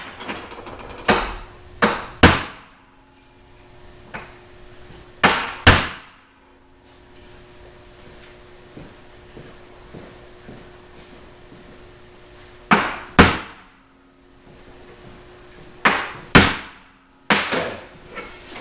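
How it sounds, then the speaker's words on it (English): A hammer strikes a center punch into flat steel for an engine stand skid, sharp ringing metallic hits in small bursts of two or three blows separated by quiet pauses, close and loud. "So I got my center punch."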